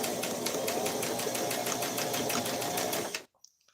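A sewing machine runs steadily, stitching through a seam with its needle pattering at a fast, even rhythm, close and loud, before it stops abruptly near the end and leaves near silence.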